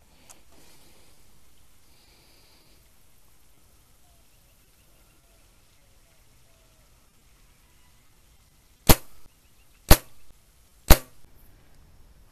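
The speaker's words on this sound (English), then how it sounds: "we're now going to shoot the broadhead with a couple field points again" Three sharp, loud arrow impacts into a target, about one second apart, after near silence, as a broadhead and field point arrows are shot from a bow.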